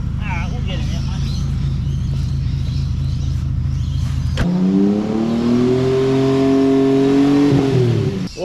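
A car stalls and, with a weak battery, its engine is restarted and revved; a steady low engine drone gives way after an abrupt cut to a rising, sustained rev that holds loud and close before easing off.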